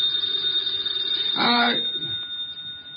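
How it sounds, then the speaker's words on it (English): A telephone bell rings in one short burst of about half a second against a quiet room with a faint steady tone, with no one speaking over it. "The phone."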